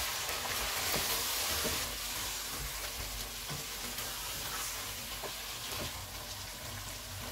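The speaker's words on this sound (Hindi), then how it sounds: "चिकन का कलर चेंज हो गया, इसमें सारे मसाले डालेंगे, इनको 1 मिनट तक भूनेंगे" Chicken pieces fry with spices in a hot pan for a Sindhi biryani, giving a continuous loud sizzle and hiss with occasional scrape and stir sounds, no voices.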